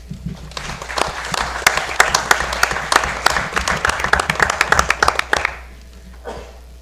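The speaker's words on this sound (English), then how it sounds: "So a round of applause to them." At a school board of education meeting, a modest room of people claps for students, with distinct individual hand claps building into brisk applause that thins out and stops near the end.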